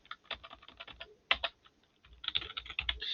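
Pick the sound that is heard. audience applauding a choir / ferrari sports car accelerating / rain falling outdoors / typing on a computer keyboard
typing on a computer keyboard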